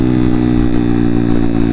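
A Honda Monkey 181 big bore motorcycle drones loudly and steadily while accelerating in third gear, its engine close and dominant, with heavy wind rush and no talk.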